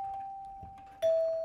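Nest Hello video doorbell installation test rings the house chime: a sustained ding tone followed by a brighter, louder second strike that rings on, heard alone.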